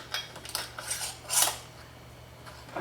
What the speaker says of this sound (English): then we'll put a lid on these